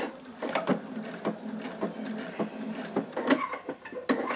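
A sewing machine stitches toward a seam with rapid, fairly close mechanical clatter and irregular knocks, moderately quiet and alone without talk.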